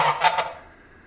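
Farm geese honk in two or three loud, close calls in quick succession, then fade into quiet.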